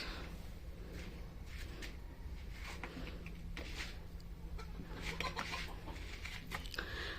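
Hens cluck in a hen house on a small poultry farm, with repeated short calls scattered through a steady, close background hum and no talking.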